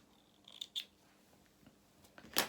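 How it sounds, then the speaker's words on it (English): Small scissors snip sewing threads close to fabric: two or three quick, crisp cuts early on and a sharper, louder snip near the end, otherwise quiet. "take our threads off, cut them off close to your work"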